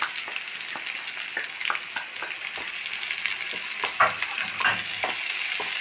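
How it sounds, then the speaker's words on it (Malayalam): Okra thoran ingredients with curry leaves sizzle steadily in a pan, a continuous frying hiss broken by scattered pops and light stirring scrapes, close and alone with no talk. "ഇതൊക്കെ നന്നായിട്ട് ഫ്രൈ ആവട്ടെ"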